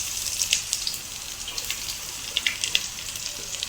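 Mustard seeds, cumin, onion and curry leaves fry in hot oil for a fish curry, giving a steady sizzle. Sharp crackles and pops burst through it close up, with no voices.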